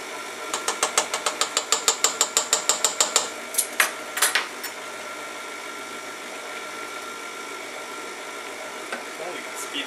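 An electric mixer on slow speed beats a cream cheese batter for a pumpkin cheesecake, making a fast, regular train of mechanical ticks for a few seconds, then a few looser knocks over a steady low hum.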